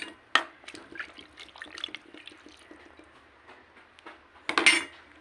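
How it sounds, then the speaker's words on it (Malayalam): Half a cup of water goes into a pressure cooker of beef, with pot and utensil clinks and a short pour, close and fairly quiet, no talking. "പാകത്തിന് ഞാനൊരു 1/2 കപ്പ് വെള്ളം ഒഴിച്ച് കൊടുക്കുന്നുണ്ട്"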